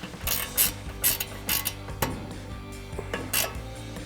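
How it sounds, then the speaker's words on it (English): An 18mm ratcheting wrench loosens a nut on a Ford F-150 front suspension during a strut install, giving a series of sharp metallic ratchet clicks and clinks at an irregular pace, close and moderately loud. "you can grab an 18mm ratcheting wrench"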